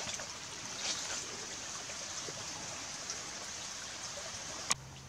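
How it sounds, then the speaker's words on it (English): A small creek flows along the Appalachian Trail in a green forest tunnel, giving a faint, steady trickling wash close by, with a brief soft knock near the end. "Beautiful little creek we're crossing here."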